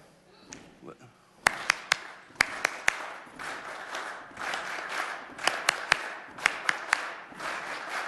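Sharp hand claps in a call-and-response echo game, struck in short irregular bursts of single and paired claps, with quieter voices talking between them.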